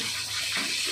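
Coke and Sprite are poured into a pot of pork humba in a steady, close, hissing splash of liquid with fizzy texture, brief and uninterrupted.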